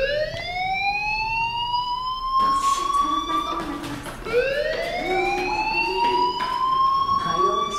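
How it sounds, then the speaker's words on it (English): Fire alarm in the video game Life Is Strange, a loud, steady electronic siren with rising sweeping tones repeating continuously, sounding close and alone without talk. "do you hear that fire alarm? That means you should be outside."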